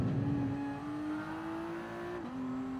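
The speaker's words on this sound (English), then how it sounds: "That Bugatti just steamed past." A racing car engine in GT Sport on the Nürburgring drones at a high, steady pitch as it speeds past, rising slightly before dipping abruptly as it shifts, moderately loud with no talking.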